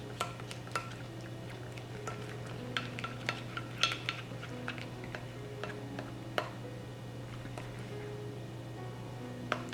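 A utensil stirs a cotton candy lip gloss mixture in a small container, making light, irregular ticks and clinks against a constant low hum, with no voices.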